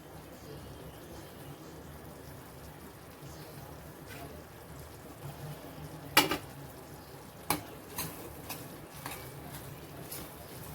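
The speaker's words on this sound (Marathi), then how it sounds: "ओलं खोबरं आणि खारकेची पूड घालतोय आपण" Grated fresh coconut and date powder stirred into turmeric halwa in a pan, a soft low sizzle underneath with several sharp spoon scrapes and clinks against the pan in the latter half.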